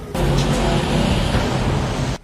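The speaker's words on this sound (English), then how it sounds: "The vehicle carrying Miguel passes by Robert" A vehicle carrying a man in police custody drives past on the street, a loud, steady engine and road rumble that holds close for about two seconds, then cuts off sharply.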